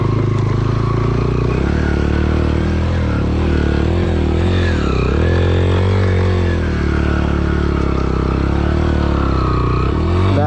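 A tractor pulling a trolley runs steadily at close range, its engine a continuous low rumble with mild revving and some clatter, loud throughout with no talk over it.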